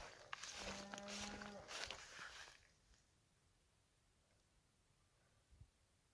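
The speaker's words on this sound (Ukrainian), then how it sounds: "корова замукала" A cow moos once, a long low call in the middle distance, followed by quiet outdoor ambience and a faint rustle.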